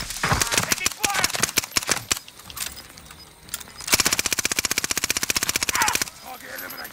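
Automatic gunfire in Call of Duty: Modern Warfare, on the Caldera map in a duo match: several quick bursts of shots, then a long steady rapid volley about two seconds long, loud and close, with players talking over it.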